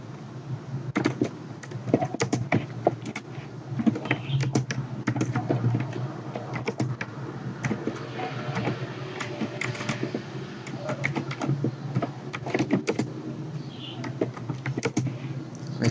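Steady typing on a computer keyboard, with dense, irregular key clicks running throughout at close range and no voices.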